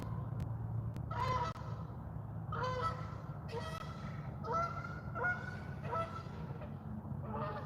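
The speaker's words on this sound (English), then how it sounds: "goose is here" Geese honk repeatedly in a series of loud, close calls over a steady low hum, with several honks overlapping in quick succession.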